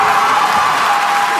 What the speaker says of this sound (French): il repart très très applaudi par le public